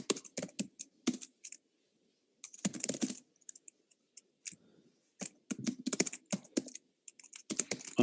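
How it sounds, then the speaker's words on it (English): Loud, close computer-keyboard typing comes in quick bursts of sharp clicks separated by short silent pauses, with no talk over it. "whoever's typing very loudly mute themselves"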